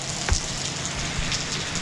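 Steady rain falls during a foggy motorcycle ride along a mountain route, a constant loud hiss of drops with a few heavier splats and no voices.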